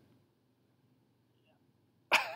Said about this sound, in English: You coughed it out?